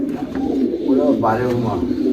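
A pair of yellow Sirazi pigeons coos in soft, rolling bursts at a pigeon sale, with someone talking steadily over the birds throughout.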